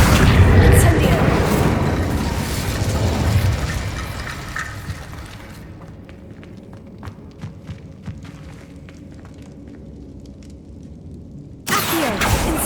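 Incendio fire spell cast in Hogwarts Legacy, a loud whooshing burst of flame that rumbles and fades over several seconds into quieter crackles and scattered ticks, followed by another sharp blast at the end; a voice speaks over it.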